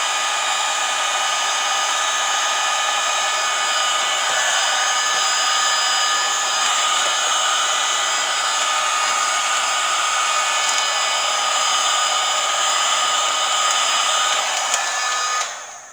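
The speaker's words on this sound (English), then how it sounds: "I had a hairdryer down here." A hair dryer blows steadily and loudly with a constant whirring hiss for the whole stretch, then cuts off abruptly at the end.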